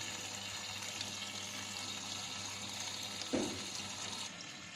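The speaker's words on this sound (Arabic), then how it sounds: "انا جيت ببص هنا لقيت الميه بتتملى اهي" A washing machine fills with water, a faint steady rush of incoming water with one brief soft knock near the end, no talking.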